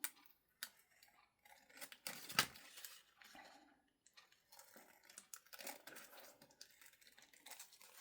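Scissors trim a glue-edged paper tag during journal crafting, making a few quiet, crisp snips and paper rustles with no talking.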